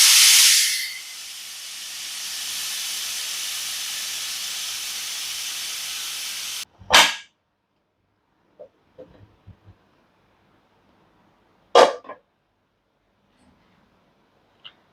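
A pressure cooker of ghee rice releases a loud, steady rush of hissing steam for several seconds as it is opened, then cuts off abruptly, followed by a few scattered metallic clanks of the lid and vessel.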